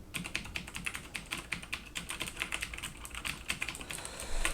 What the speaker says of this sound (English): this keyboard has Cherry MX blue switches, and they have that really clicky feedback